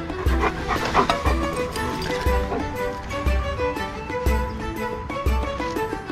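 A dog barks outdoors in the mountains, with short repeated yaps over a steady rhythmic background of music, moderately loud.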